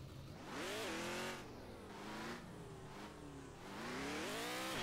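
A virtual car in an Unreal Engine 4 vehicle system drives off, its synthetic engine tone rising and falling in repeated revving sweeps as it shifts and accelerates.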